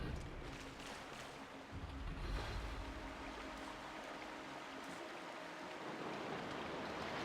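Water rushing and churning fills a dungeon room in Zelda: Twilight Princess, a steady, even wash of flowing water that swells briefly midway and runs on without a break.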